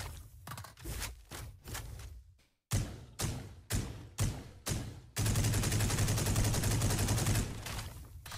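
A Valorant Phantom rifle with the Primordial skin fires in the video game. Several separate single or short-burst shots come first, then a sustained loud automatic burst runs for about three seconds.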